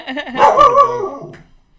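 A dog barks and growls indoors in a house, one close, loud burst of yapping lasting about a second before it trails off, with no talk over it.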